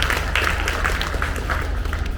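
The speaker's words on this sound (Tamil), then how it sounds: "புதுக்கவிதையை மணந்த மேத்தாவுக்கு கைத்தட்டு கொடுங்கள்" An audience at a Tamil literary speech event claps in a steady, continuous patter of applause filling the short stretch at close range.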